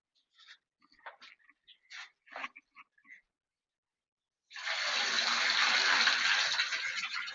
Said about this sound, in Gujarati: જોઈ શકો કેટલું પાણી આવે, કેટલા પ્રેશરમાં આવે જોઈ શકો છો તમે